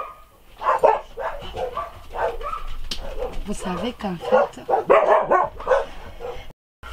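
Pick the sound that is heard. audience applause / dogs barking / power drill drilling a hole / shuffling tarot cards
dogs barking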